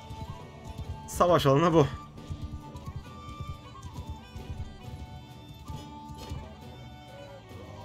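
A horse in Mount & Blade II: Bannerlord gives one loud, wavering whinny early on, followed by repeated hoof clip-clops and battle clatter under steady talking.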